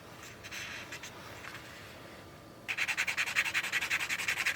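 A watercolor pencil scratches across paper, first in soft uneven strokes, then after a short pause in a fast, steady back-and-forth rhythm of close, gritty rubs.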